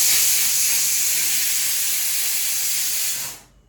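A loud, steady hiss of steam jets out continuously for about three seconds, then cuts off and fades quickly into quiet.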